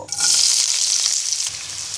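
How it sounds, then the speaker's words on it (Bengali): One cup of chopped onion hits half a cup of hot soybean oil in a wok, bursting into a loud, close sizzle that holds steady for two seconds with slight stirring, no voices. "তেলটা গরম হয়ে গেলে 1 কাপ পরিমাণ পেঁয়াজ কুচি দিয়ে দিব।"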